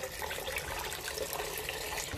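Tap water runs steadily into a pot of glutinous rice being readied for a bibingka with latik, a continuous close splashing pour with no voices over it.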